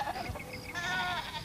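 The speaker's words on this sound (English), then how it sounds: "Here are the goats" Goats bleat nearby, a couple of wavering nasal calls in quick succession, over faint background noise.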